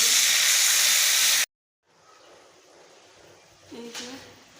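Loud sizzling hiss as water hits a hot pan while eggplant posto with poppy seed paste and jaggery cooks, cutting off sharply after about a second and a half, followed by quiet kitchen noise and a brief voice.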